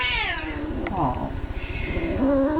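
A cat meows in a room where pets have soiled the carpet, with a drawn-out vocal cry rising near the end over steady background noise and a person's voice nearby.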